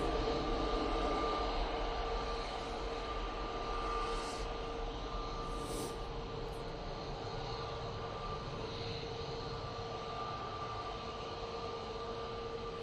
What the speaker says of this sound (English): Next arrival is the Ryanair from Gdansk.